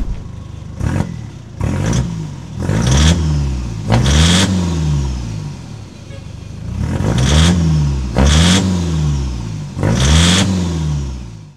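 A loud Toyota Innova diesel engine (2KD) with a 3-inch straight-pipe exhaust revs repeatedly in sharp bursts, each rev rising and falling with a raspy, unmuffled exhaust roar, no talking.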